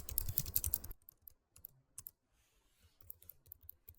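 Rapid, dense keystrokes on a computer keyboard while entering PHP code, a loud burst of clicks followed by sparser, softer taps and pauses.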